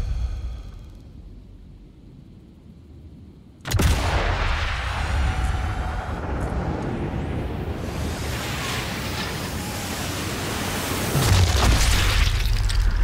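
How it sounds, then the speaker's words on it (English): A single loud gunshot booms out in the video game Sniper Elite 5, leaving a long rumbling echo with wind-like noise, and a second heavy shot follows near the end. "You'll rarely get an opportunity to just indiscriminately fire out shots like this without anybody hearing you."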